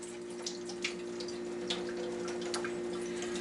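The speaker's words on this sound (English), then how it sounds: "so now we're going to add the mixed vegetables. Drain it off." Liquid drained off mixed vegetables in a home kitchen, a steady running-water stream with light patters and drips over a constant low hum, close and continuous without talk.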